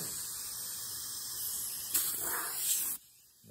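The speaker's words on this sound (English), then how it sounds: "Go ahead and air. Air them up a couple times like that." An inner tube inside a drag-racing slick on a Barracuda drag car takes a quick charge of air, giving a soft hiss that lasts about a second and then cuts off into quiet.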